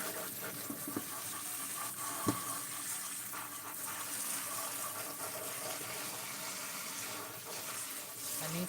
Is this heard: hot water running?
yes